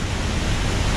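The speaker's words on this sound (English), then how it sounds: "Here's the second waterfall. This is Stassal Falls." Stassal Falls, a waterfall along a hiking trail, roars as a dense, steady rush of falling water, close and loud, with no other sounds.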